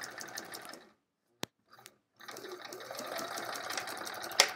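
Sewing machine quilting a line with metallic thread on an hourglass block quilt, stitching steadily close by, pausing briefly with a few small clicks, then running again continuously.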